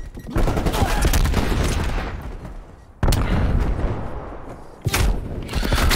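Shotgun blasts in a first-person shooter game, loud and close, two heavy booming volleys with rolling echoes and a third burst at the end.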